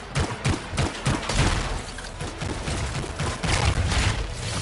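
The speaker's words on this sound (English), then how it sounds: "Time to show them that really large gun." A really large gun fires in the video game Anthem, a dense, continuous barrage of heavy shots and impacts that stays loud and busy throughout, with no talking.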